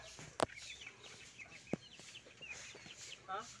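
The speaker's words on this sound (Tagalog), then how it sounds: "Yan po yung mga manok." Chickens clucking softly at a distance, with a couple of sharp knocks and scattered bird chatter in the background.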